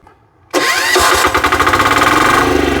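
A diesel walk-behind tractor engine starts up after a brief quiet moment, catching abruptly and settling into a loud, close, rhythmic chugging idle.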